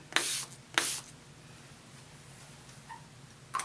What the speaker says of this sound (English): Just a nice little light mist coming at you.